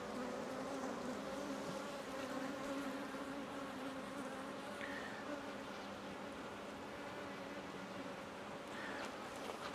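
Honey bees hum at an open, queenless hive, a dense and steady buzz that runs through the whole clip at a soft level, with a few individual bees passing close by.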